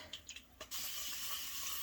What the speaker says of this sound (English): Spray a little bit of water